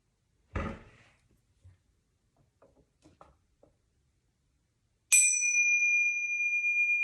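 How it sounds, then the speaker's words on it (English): A meditation bell rings once, clear and sustained, its bright tones lingering steadily and loud at the close of a quiet meditation session, after a soft earlier knock and a few faint taps. "And then we'll end with the bells"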